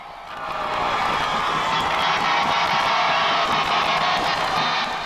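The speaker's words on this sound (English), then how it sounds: "The crowd seemed bigger, the cheering louder, and the love for the Houston Rockets stronger" A large crowd roars and cheers at a Houston Rockets championship parade in Houston, a steady, dense wash of voices with scattered whoops and shouts, loud and continuous throughout.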